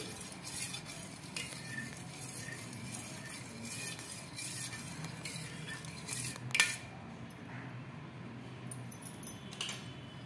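A spoon stirs katora health drink powder into liquid in a cup or bowl, giving a steady scraping, clinking swirl with one sharper clink partway through, close and fairly quiet with no talk.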